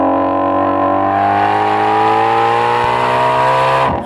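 A Shelby GT350 V8 engine revs loudly and up close, one sustained, rising roar with a smooth, steady tone that cuts off abruptly at the end.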